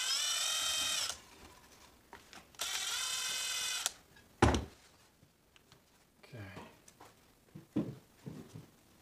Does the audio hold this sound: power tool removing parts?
yes